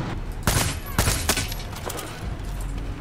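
Gunfire in the video game Far Cry 6 multiplayer, with several sharp bursts of shots in quick succession over steady game background noise, fairly loud and close.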